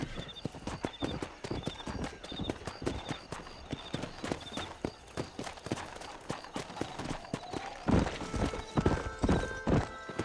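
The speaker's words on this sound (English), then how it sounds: "All right, I'll show you how we ride around these parts." A horse gallops in the remastered Red Dead Redemption video game, with rapid, steady clip-clop hoofbeats, a whinny and a harder, louder run of hooves toward the end.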